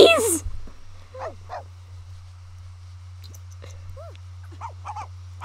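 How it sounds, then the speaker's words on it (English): Puppies in The Sims 4 video game give high, thin whimpers and yips in short scattered bursts over a steady low hum, after a brief loud burst at the start. "Puppies!"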